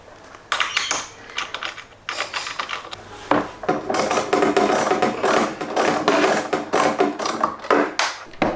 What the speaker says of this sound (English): screwdriver on the top, ratchet for underneath. Get in there and do this up.